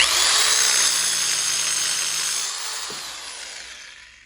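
A HYCHIKA mini circular saw whines loudly as it cuts through material held in a vise, its high motor tone slowly winding down after the cut.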